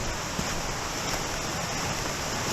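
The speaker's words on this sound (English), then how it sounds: "I'm gonna go over here and get a shot of this waterfall because it is pretty." Waterfall on Dismal Creek in the Ozark National Forest, Arkansas, heard as a steady, broad rushing roar of falling water with no breaks.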